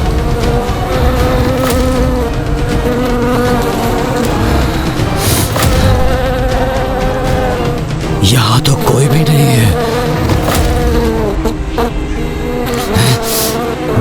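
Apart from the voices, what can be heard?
buzzing of countless insects, TV sound effect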